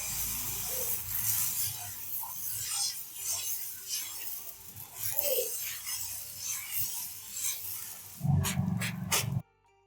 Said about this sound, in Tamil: இப்போ இதை தோசையாகவும் ஊற்றிக்கலாம்.